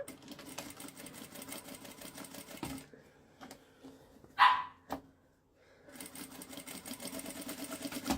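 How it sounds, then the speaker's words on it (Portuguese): A dog barks downstairs in short bursts, one louder yelp standing out near the middle, between stretches of rattling sewing machine stitching quilted fabric in a home sewing room. "quem já tá latindo lá embaixo, hein?"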